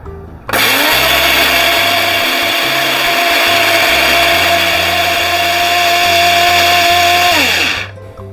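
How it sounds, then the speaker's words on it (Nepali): An electric coffee grinder pulverises chiya masala spices in a loud, high motor whine that starts abruptly, holds steady for about seven seconds and cuts off sharply. "अब यसलाई चाहिँ मिक्सीमा राखेर पिसौँ। मैले चाहिँ यो कफी ग्राइन्डर लिएको छु, यसमा एकदम राम्रोसँग पिसिन्छ।"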